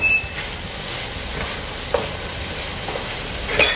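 Red cabbage fries in butter with a steady, broad sizzle, interrupted by a few light clinks and scrapes of stirring and no voices.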